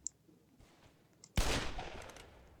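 In a Roblox open-world building and PvP game, a sudden loud burst of gunfire erupts after near silence, rapid shots that trail off over about a second.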